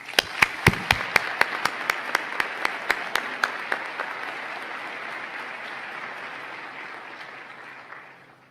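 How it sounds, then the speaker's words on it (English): Audience applause at a graduation ceremony, starting with a few sharp close claps that swell into a broad, sustained wash of clapping before fading out. "Please give them a round of applause."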